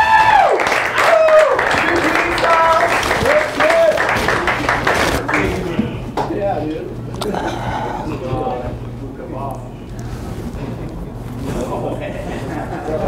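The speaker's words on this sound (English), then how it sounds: "With some applause, they'll come out." Small crowd at a standup comedy night in a Buffalo saloon claps and cheers briefly near the start, then fades under someone talking over room noise with scattered voices.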